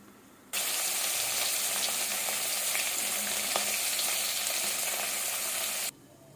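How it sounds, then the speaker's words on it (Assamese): Fish pieces frying in a little oil in an iron wok, an intense steady sizzle that starts abruptly, holds evenly for about five seconds with occasional pops, then cuts off. "এতিয়া মাছখিনি ফ্ৰাই কৰি লওঁ এইখিনি তেলত।"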